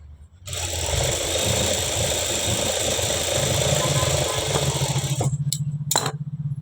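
Sewing machine stitching a blouse runs in one close, steady mechanical whir for several seconds, then stops, with a few brief clicks and handling sounds at the end.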